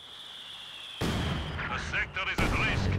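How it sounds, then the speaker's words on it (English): Heavy mortar fire in the strategy game Company of Heroes 2 lands as a sudden loud blast, followed by rumbling battle noise and a second heavy impact. A voice speaks over the explosions. "that's a heavy mortar from BaByuByu"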